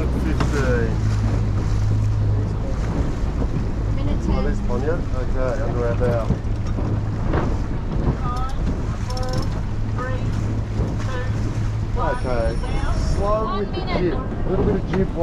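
Sails flapping loudly in strong wind aboard a racing sailboat during race week at Airlie Beach, with steady wind rush and water noise throughout as crew voices talk over it.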